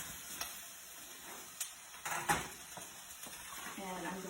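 Low-carb chili ingredients sizzle quietly in a pan, with a soft steady hiss broken by a few light clinks and scrapes of a stirring utensil.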